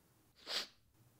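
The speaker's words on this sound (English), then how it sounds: "Sniffling." A single short, close sniff or snort through the nose, a brief breathy burst in an otherwise quiet setting.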